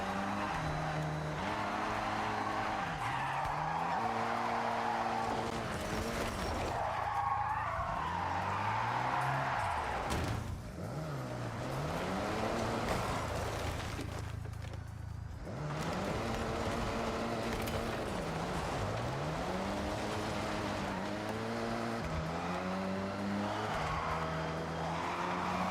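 Tuned cars in the racing game Forza Horizon, engines revving loudly and continuously with repeated gear shifts and tire skids, dense engine roar throughout with no talking.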